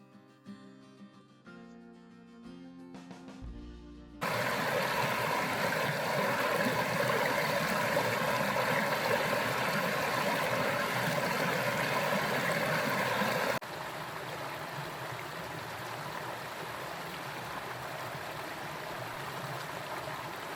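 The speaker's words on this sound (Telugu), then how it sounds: "అండ్ వాటర్ అయితే చాలా ఫ్రెష్ ఉన్నాయి. ఆ రాక్స్ మధ్యలోంచి వస్తుంది గదా!" Fresh stream water runs between rocks at Glendalough in Wicklow, a steady, full rushing flow heard close up, with a brief quieter stretch at the start and the level dropping a little partway through.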